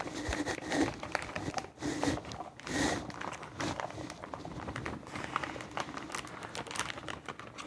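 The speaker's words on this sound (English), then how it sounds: "So now we pour them in the blender." Corn kernels are poured from plastic packs into a blender, producing quiet, close crinkling of plastic and a soft patter of kernels that runs on without a break.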